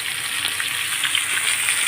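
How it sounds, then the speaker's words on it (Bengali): Fish frying in a pan on an LP gas stove at home, a soft steady hiss of hot oil heard close with a faint bubbling texture and no talking. "আর এই যে মাছ ভাজা চলতেছে"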